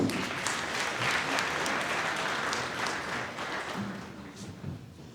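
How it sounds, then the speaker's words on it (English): An audience at a small business development outreach event in Matjhabeng applauds a pitch speaker with a fairly faint, steady round of clapping that tapers off toward the end. "Can you give him a round of applause, please?"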